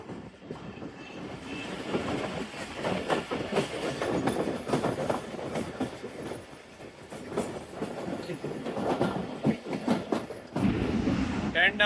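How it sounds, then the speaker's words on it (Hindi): Tezgam Express passenger train gathering speed after pulling away from a station platform, with continuous rumbling and rhythmic clickety-clack of wheels over rail joints growing through the run, heard from on board. "ड्राइवर साहब ने प्लेटफॉर्म क्लियर होते ही स्पीड गेन करना शुरू कर दी है दोबारा"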